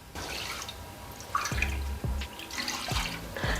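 Raw rice is washed in water for sweet pongal, with quiet sloshing and a few distinct drips and splashes, close and faint.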